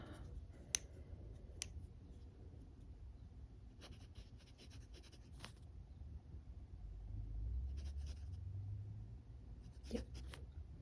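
A Kaweco fountain pen scratches across paper in short, soft strokes with scattered pauses, close and quiet, with a low background rumble.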